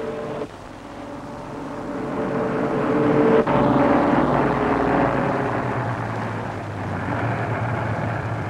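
A propeller flying boat drones loudly as it alights on water, a rushing wash of water swelling beneath the engine roar, then easing off.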